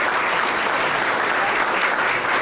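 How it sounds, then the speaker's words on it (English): Audience at a chamber of commerce annual meeting applauding three presentations, a steady, dense round of clapping from a sizeable crowd throughout. "let's give a round of applause to those three presentations"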